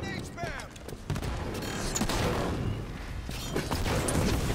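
Light rifle fire in a Halo 5: Guardians multiplayer match, bursts of gunfire and impacts layered under game noise and players talking throughout.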